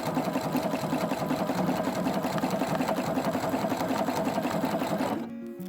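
A sewing machine stitches stretchy fabric for doll leggings, running in a steady, continuous whirring rhythm at close range before cutting off abruptly near the end.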